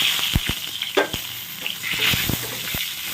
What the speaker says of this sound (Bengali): জিরেটা আমার খুব ভালো করে রোস্ট হয়ে গেছে আর লঙ্কাটাও কিন্তু প্রায় ভাজা হয়ে গেছে